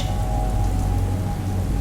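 Steady heavy rain pours through a stormy night on a deserted road, a dense continuous downpour with a low rumble beneath it and no voices.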